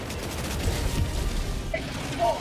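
W.A.S.P. rocket launcher in Helldivers 2 firing, a rumbling burst of rocket launches and blasts with a brief metallic clank near the end, sustained and fairly loud over game ambience.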